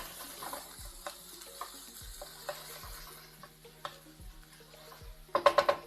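Meat sears in a hot pan with a faint, steady sizzle, broken by a few soft, regular taps and scrapes, then a brief louder clatter near the end.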